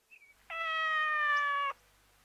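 A cat in the grass gives one steady, drawn-out meow lasting about a second, clear and close in a quiet setting, preceded by a tiny faint chirp.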